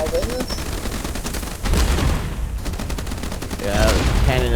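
Cannons fire in dense, rapid volleys during a naval battle in the video game Age of Water, loud booming bursts that overlap into a continuous barrage.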